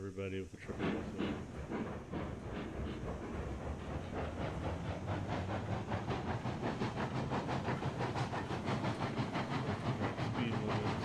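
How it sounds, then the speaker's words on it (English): A steam locomotive in a railroad simulation game chuffs while moving in reverse along the track, a dense, steady rhythm of exhaust beats and hiss with rail clatter, loud and continuous throughout. "So let's throw her in reverse, take off the brake, give her a little bit of regulator."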